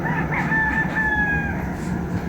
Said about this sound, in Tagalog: Kung makatilaok naman ang manok, kala mo madaling araw.